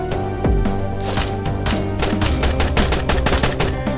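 Rapid machine gun fire in the video game The Escapists: The Walking Dead, loud close bursts of rattling shots continuing throughout without talk.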